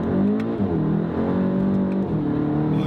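Volkswagen Golf GTI TCR pulling away hard with wheelspin, a close, loud engine note climbing in pitch through the revs, with a brief drop and pickup as it shifts, over a constant low rumble.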